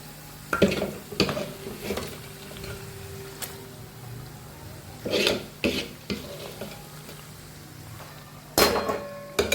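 Vegetables for pav bhaji go into a hot pan with a few scraping stir strokes and clinks, while a low sizzle of frying runs underneath and no one speaks.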